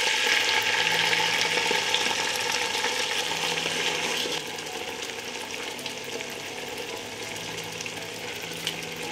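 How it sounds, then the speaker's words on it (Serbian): Peppers fry in hot oil in a pot on a home stove, giving a dense, continuous sizzling crackle that starts loud and settles slightly lower partway through. "Ulje se zagrejalo i sada spuštam papriku u šerpu na prženje"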